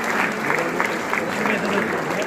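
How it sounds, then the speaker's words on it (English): A crowd of guests at a college campus diploma ceremony claps steadily in a dense, even round of applause, sustained throughout without a break. "Please give a huge round of applause for our Chief Guest and Guest of Honor."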